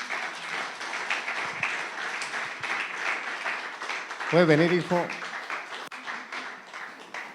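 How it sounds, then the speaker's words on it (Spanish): A church congregation claps for Christ Jesus in a steady crowd wash, with a voice speaking over it and a brief warbling vocal burst near the end. "¿Cuánto le dan palmas a Cristo Jesús?"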